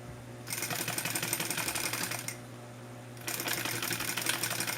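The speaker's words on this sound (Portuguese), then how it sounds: "Passo uma costura bem em ciminha daquele risco" A sewing machine stitches synthetic bag material in two steady runs, separated by a short pause, with a loud, close, rapid whirring rattle.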